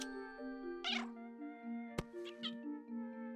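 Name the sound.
cat meowing in the video game A Little to the Left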